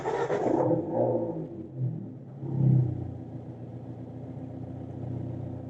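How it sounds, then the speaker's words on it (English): A Fiat 124 Spider Abarth engine cranks briefly and catches with a rising rumble at about 2.5 seconds, then settles into a steady close idle. "Okay, let's start the car."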